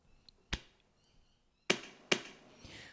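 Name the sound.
slapping chest to record a kick sound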